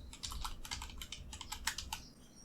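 Fingers type a short search term on a computer keyboard, a rapid run of soft close clicks lasting about two seconds before stopping.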